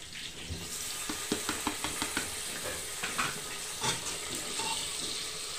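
Tomatoes hit a hot frying pan, bursting into a steady sizzle with a quick run of sharp clicks and taps from a utensil, close and moderately loud.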